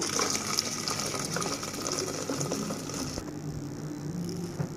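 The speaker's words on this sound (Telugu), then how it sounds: "దాంట్లోని పాకం అయితే మరిగిపోయిందండి ఇది వడకట్టేసుకుందాం" Boiled jaggery syrup being poured through a strainer, a steady watery pouring and gushing that continues throughout the clip with no talk.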